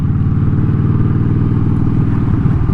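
A motorcycle being ridden at night from Norfolk toward the Peninsula, its engine giving a steady, continuous low rumble close by with no talking.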